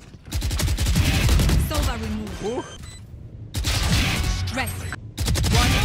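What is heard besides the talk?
gunfire in the video game Valorant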